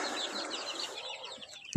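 Briefly, a flock of half-grown chicks chirps and clucks in a busy high-pitched chorus close by, cut off by a sharp knock at the end.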